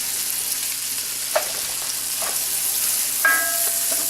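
White onions sweating in a pan give off a steady, soft sizzle throughout, broken by a few faint clicks of a utensil, with no talking.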